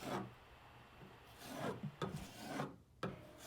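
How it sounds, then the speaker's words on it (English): Drywall being scraped off a wall during room painting preparation, with harsh rasping strokes that come in several bursts separated by short pauses, close up and fairly quiet. "my husband is scraping off a piece of drywall"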